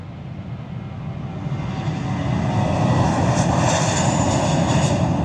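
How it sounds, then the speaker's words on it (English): Airplane taking off at Lanzarote, a broad jet engine roar that swells steadily louder over a few seconds, continuous and without talk. "Another plane taking off here, look."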